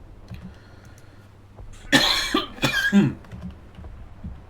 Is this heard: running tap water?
no